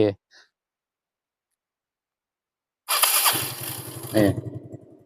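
A Yamaha Fino motorcycle engine cranks briefly and catches, then idles roughly with a steady low putter and a short burst of revving. A voice is heard faintly at the start before a gap of silence.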